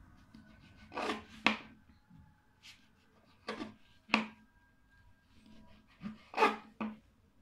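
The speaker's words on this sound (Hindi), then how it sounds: "स्लाइस के किनारे काट लें।" A knife slicing the crusts off bread slices while making French toast gives several short, crisp cutting strokes spaced a second or so apart, close and fairly quiet, with no talk.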